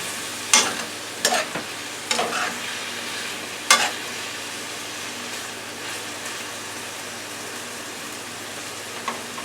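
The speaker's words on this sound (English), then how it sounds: "I'm going to cook this on medium, a number 6 on my stove, until the potatoes are done" Potatoes sizzle steadily in a pan on the stove, with a few sharp clinks and scrapes as they are stir-fried, close and moderately quiet, no talking.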